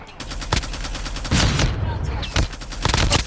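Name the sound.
DR-H gun firing in Call of Duty Mobile video game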